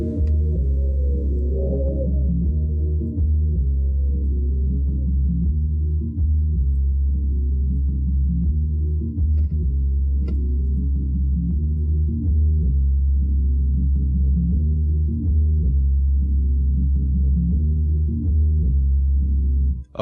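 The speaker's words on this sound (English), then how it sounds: "now you have basically a nice little bass to add to it" Isolated bass line for a rap beat made in FL Studio, a steady deep sustained low tone running continuously at even loudness with no other instruments or voices.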